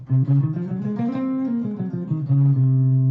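A guitar plays a slow stepwise Locrian mode scale of sustained notes, moving up and then back down, clear and close.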